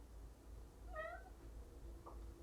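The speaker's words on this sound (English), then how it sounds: "got a kitty cat here" A cat meows once, a short mid-pitched call close by, with a fainter second sound after it over steady low room hum.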